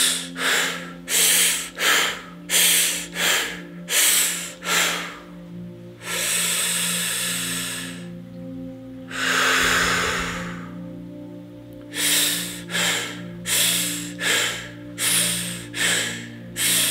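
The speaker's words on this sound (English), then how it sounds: "long deep breath through the nose. And now 4 short breaths" A person breathing rhythmically and forcefully through the nose in a guided breathing exercise: bursts of short sharp sniffs, then a long steady inhale and exhale, then more rapid short breaths, close and loud with a low hum underneath and no talking.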